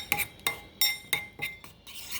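Batter for a blueberry chaffle made with cream cheese being mixed in a bowl, with a utensil clinking and scraping against the dish in about six sharp, evenly spaced strokes, close and fairly loud.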